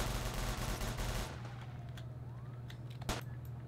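Gunfire in the Roblox ERLC San Andreas roleplay game, shots fired at staff: a loud burst of rapid shots at the start, then scattered single shots with a siren-like wail in the background.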